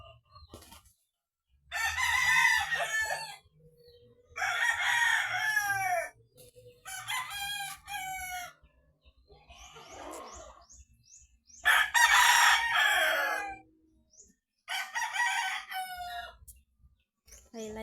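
Roosters crow repeatedly at close range in loud, sustained calls separated by short gaps, with some scratchy, flustered squawking in between as the chickens fight.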